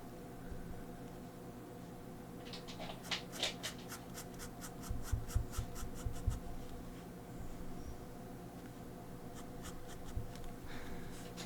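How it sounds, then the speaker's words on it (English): Pen hatching on paper during an ink drawing, with quick repeated scratchy strokes in short bursts, faint and close over steady background hiss. "Just adding a little hatching."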